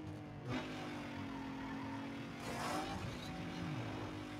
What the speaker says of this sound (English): This guy's car sounds like a mosquito.